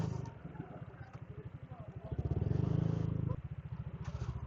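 A motorcycle engine idles with low, steady pulsing chugs as it pulls in to park at a tourist registration area in Apao, with a brief louder rev in the middle and faint voices nearby.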